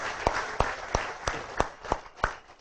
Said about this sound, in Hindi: एक बार सभी डेवलपमेंट ऑफिसर्स के लिए जोरदार ताली बजाएंगे